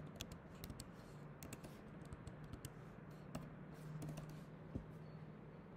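Quiet clicking of a computer keyboard as values are typed into a form, irregular bursts of keystrokes spread across the stretch, close but faint.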